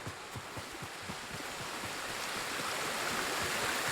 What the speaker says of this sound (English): Oh, that water sounds so serene.